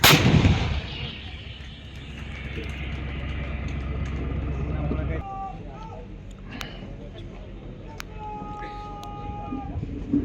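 Artillery rounds from 130mm M46 and 155mm Soltam guns land at a military firepower demonstration range, a loud opening blast followed by rumbling reverberation and later distant thuds, with a public-address voice speaking over it.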